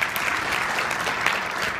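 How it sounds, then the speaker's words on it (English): Steady audience applause after student team presentations at a university data challenge event, dense and even throughout, fairly loud with no talk over it. "Let's give them a round of applause again."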